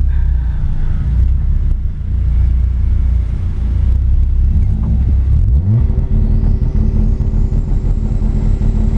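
A turbocharged Chevrolet Corsa's engine rumbles loudly, then revs up with a rising whine near the midpoint and settles into a high steady drone.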